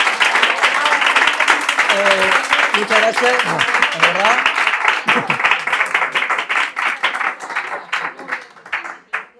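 Audience applause for the speaker at a talk in Logroño, loud dense clapping that fades out over several seconds while someone speaks briefly over it.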